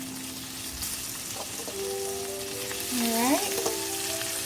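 Medium skin-on shrimp sizzle in hot olive oil in a pan, a steady close frying hiss with faint clinks and a single brief spoken word.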